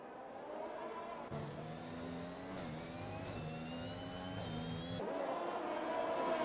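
Several Formula 1 cars from the F1 2021 game racing in a line at the Brazilian GP, their engines droning and rising in pitch together, steady and fairly loud throughout with a brief surge near the end.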